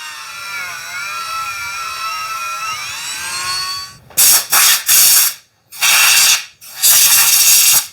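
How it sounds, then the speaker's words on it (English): A Dremel fitted with a Scotch-Brite wheel cleans the sandblasted bearing bore of a two-stroke quad frame, a loud high whine that cuts in and out in several short bursts after a quieter steady hum. "I'm gonna go in with this little Scotch-Brite wheel and the Dremel"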